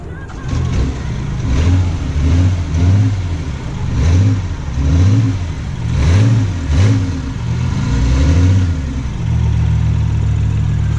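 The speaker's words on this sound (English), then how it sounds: "in order to start the 3-cylinder engine" A BMW i8's three-cylinder engine fires up and revs in repeated rising-and-falling pulses, about five swells in a row, loud and close, before settling into a steady idle.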